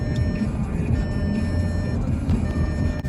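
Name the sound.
car beeping noise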